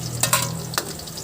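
Garlic and chorizo frying in a pan, a soft continuous sizzle with a low hum underneath and a few quick scraping stirs, close up and without speech.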